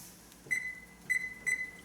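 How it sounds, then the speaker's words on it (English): A kitchen timer beeps in three short, spaced tones, clear and moderately loud against a quiet room, with no one speaking. "When that timer goes off"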